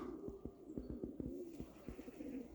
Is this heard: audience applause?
no